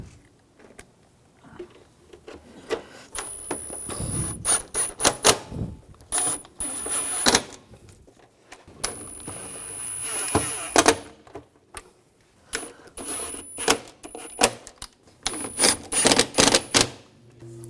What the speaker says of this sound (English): now we're going to put the bolts in